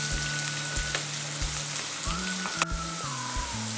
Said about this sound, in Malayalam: ഞാൻ വഴറ്റുന്നതിൻ്റെ കൂടെ തന്നെ കറിവേപ്പില കൂടി ചേർത്ത് കൊടുക്കാം